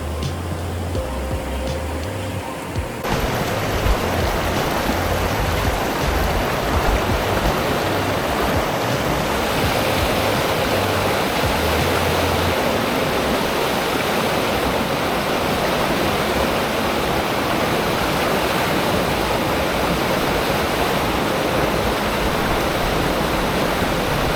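Deep creek water rushing at a crossing on a gravel bikepacking route between Taralga and Mittagong, a loud, steady broadband roar that fills the whole stretch without a break and with no talking.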